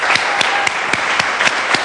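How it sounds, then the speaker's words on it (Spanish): Loud, close audience applause in a studio setting, a dense steady wash of clapping with distinct sharp claps standing out at a regular pace. "Un aplauso enorme para él"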